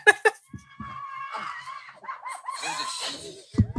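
From a mountain bike clip shared on Instagram, a high, wavering scream rises and bends in pitch, surrounded by laughter and excited voices, loud and close amid short breathy bursts.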